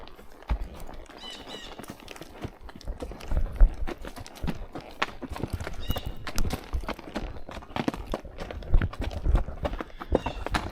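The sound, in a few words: horse hooves with pads clip-clopping on sharp gravel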